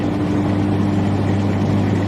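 Car engine with a major exhaust leak idling nearby, a steady low rumbling drone with a rough buzzing hum that holds constant throughout, with no talk over it.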